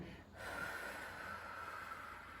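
A person breathing during a standing abdominal workout at home: one long, steady, airy breath that starts after a brief pause, close and soft, with no talk over it.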